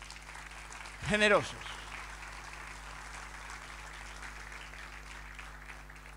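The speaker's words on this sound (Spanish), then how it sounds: "Denle un fuerte aplauso a Dios." A church congregation applauds after a pastor's sermon prompt, a steady wash of clapping that carries through the whole stretch, briefly interrupted early by one short spoken word.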